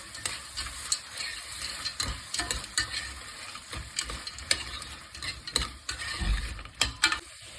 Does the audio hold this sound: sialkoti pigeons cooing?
no